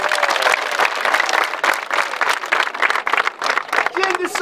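Students in a crowd clap together, a dense, sustained burst of applause with rhythmic bursts, mixed with voices and cheering.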